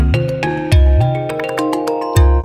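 Object synthesizer instrument in Reason playing a patch: bright, punchy electronic notes with deep bass thumps hitting at intervals, stacked harmonic tones and quick plucky accents in a busy, loud riff.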